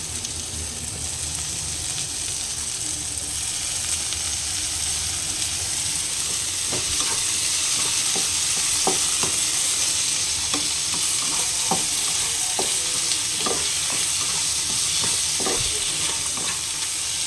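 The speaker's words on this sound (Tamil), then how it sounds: "தக்காளி நல்லா வதங்கட்டும் பாருங்கள் தக்காளி வதங்கிட்டுருக்கு" Tomatoes sautéing in a pan for chutney make a constant loud sizzle, with stirring taps growing more frequent in the second half; no one speaks.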